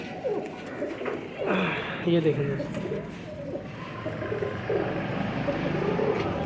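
King-size breeding pigeons coo softly in short repeated phrases close by, mixed with someone talking over them.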